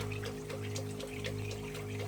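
Water pours in a steady trickle through an automatic float valve, fed from rain barrels in an off-grid hydroponics and aquaponics setup, with a constant, close splashing flow over a low steady hum.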